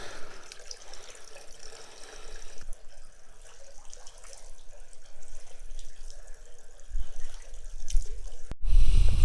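Cold water runs and splashes steadily from a stone fountain spout at the ancient city of Sagalassos, Turkey, with louder splashing and a clatter near the end.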